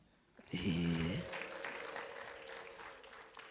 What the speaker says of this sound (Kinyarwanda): reka mbwire umuryango bakire n'amashyi n'impundu